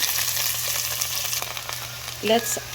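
Garlic sautéing with onion in a pan for chicken afritada, a loud, close sizzle with spoon scrapes and a brief clink of utensils near the end.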